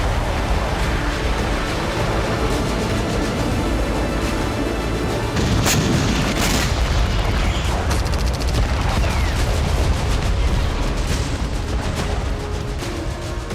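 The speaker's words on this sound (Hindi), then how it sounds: "4 किंजल मिसाइलें फायर की गई।" Kinzhal hypersonic missile launches and explosions over Ukraine, a dense, continuous roar of booming blasts and rumbling fire lasting throughout, with sharper cracks near the middle and no voices.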